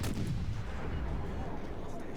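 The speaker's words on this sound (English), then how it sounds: "US guns work pretty well." Naval gunfire from the US destroyer USS Monaghan in World of Warships, a booming artillery blast that rolls into a sustained low rumble, loud and close with no talking.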